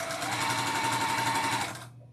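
A sewing machine runs continuously, stitching quilt strips along a quarter-inch seam: a loud, close, rapid mechanical whir that stops abruptly near the end, with no talking.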